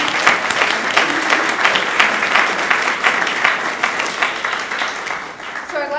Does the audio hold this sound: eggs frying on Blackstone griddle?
no